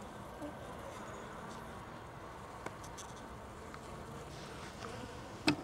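Honey bees at a hive being fed sugar syrup from an upturned jar give a faint, steady buzz throughout, with a soft knock near the end.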